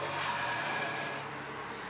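Old steel card scraper drawn across a chunk of maple salvaged from packing, one continuous close raspy scrape that fades slightly toward the end.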